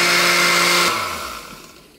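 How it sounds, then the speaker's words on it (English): A cheap Walmart blender whirs loudly while mixing a shake, then the motor cuts off and spins down, fading over the last second. "this blender isn't exactly the most efficient or the most powerful, because we got it at Walmart for like 20 bucks"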